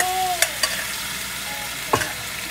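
Chicken pieces hit a hot pan for cashew chicken and stir-fry with a loud steady sizzle, broken by a few sharp utensil clanks against the pan.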